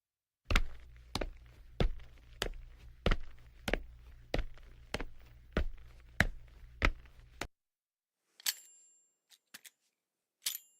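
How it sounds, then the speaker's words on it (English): A steady run of about fifteen crisp footstep taps over a low hum, then silence broken by a few scattered clicks and a short bright ringing tone. "that does not sound like good footsteps"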